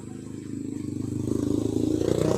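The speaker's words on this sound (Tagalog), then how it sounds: "maingay yung motor dito eh" The engine of a homemade three-wheeler built from a Bajaj CT 100 motorcycle idles with a low, steady putter that grows slightly louder over the short stretch, with faint rattling on top.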